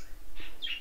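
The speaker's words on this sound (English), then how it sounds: "The coconut hummingbird still voicing with chip chip chip chip chip" A couple of short, high hummingbird chirps ring out over a low background rumble, brief and fairly faint.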